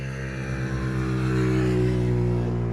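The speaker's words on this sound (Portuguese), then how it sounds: "Moto aí passando uma carreira terrível, pessoal" A motorcycle roars steadily and builds slightly in loudness, passing close with a harsh, continuous engine drone and no voices.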